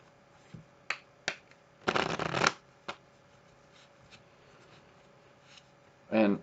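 Playing cards being worked through a strip-cut false shuffle on thin felt: a few quick papery snaps and riffles, one longer dense burst of shuffling, then a final riffle near the end, close and alone with no talking.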